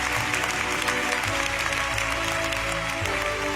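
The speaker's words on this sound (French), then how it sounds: "Acclame le mieux que ça." A church congregation applauds at a worship service, giving dense, continuous clapping that stays loud and even throughout, with faint voices mixed in.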